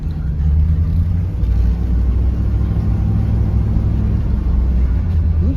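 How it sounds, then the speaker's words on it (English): A mail truck passes close by on a residential street, a steady loud engine rumble and road noise that holds for several seconds with no voices. "It's Quinn's mail truck right there"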